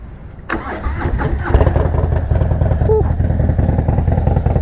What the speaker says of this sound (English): let's go let you guys hear what this bike sounds like